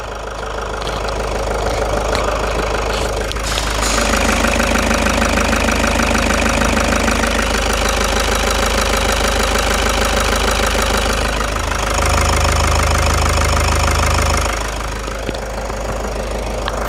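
Toyota SW4 engine idling close to the microphone, a steady mechanical drone with a faint knocking, ticking texture traced to a component at the front of the engine, continuous and loud with no talking.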